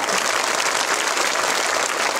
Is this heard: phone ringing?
no